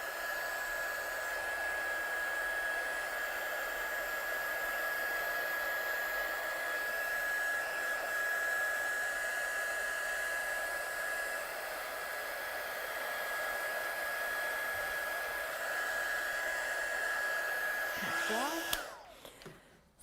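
A hair dryer blows on fast-drying acrylic texture paste in a papercraft mixed-media project, a steady, close, airy whoosh with a thin whine that runs evenly until it cuts off abruptly near the end.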